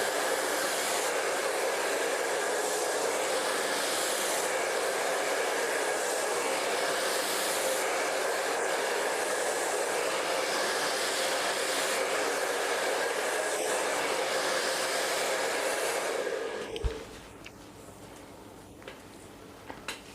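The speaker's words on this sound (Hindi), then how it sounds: "पहले हम रूट पे अच्छे से ड्रायर करेंगे।" A hair dryer blows at the roots of sectioned hair during a roller-set styling, a loud steady whoosh that runs for most of the time before cutting off, followed by a few faint clicks.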